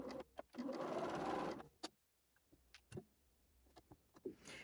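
A sewing machine stitching quilt fabric along a diagonal, one loud close burst of whirring stitches lasting over a second, then a near-silent stretch with scattered clicks and handling taps.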